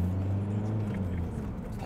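A Volkswagen Passat B5.5 with a 1.9 TDI diesel engine driving along, a low steady engine hum and rumble heard from inside, with people talking over it.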